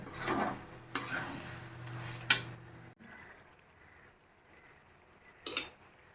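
Chopped tomato with salt cooking in a pan, with a few scraping stirs near the start and again near the end over a soft, steady background hiss.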